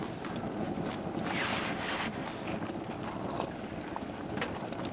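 Wind gusting through a snowy forest at about -20°C on a winter camping trip, a steady broad rush with a louder surge in the middle, blowing snow off branches, close to the microphone with some buffeting.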